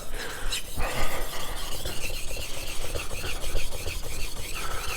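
A Yoshikazu Ikeda 210mm honyaki gyuto in White #2 steel is sharpened on a 1000 grit whetstone, with close, repeated scraping strokes of steel on wet stone in a quick back-and-forth rhythm.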